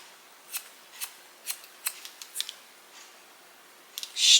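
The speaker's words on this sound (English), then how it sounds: "Cut that baby off." Scissors snip through hair during a layered shag haircut, with about eight crisp, close cuts spaced roughly half a second apart, followed by a couple of quick snips and a brief rustle at the end.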